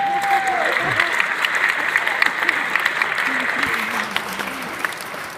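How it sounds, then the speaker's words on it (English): An audience applauds at a concert band performance, steady close clapping that carries across the whole stretch and slowly thins out toward the end. "Let's give them a round of applause before we play."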